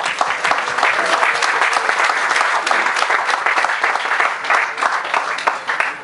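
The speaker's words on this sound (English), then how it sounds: "So big applause for him." Guests at a yacht club party in Phuket applaud the commodore, giving a loud, full round of clapping from a crowd that stays strong and then tails off slightly at the end.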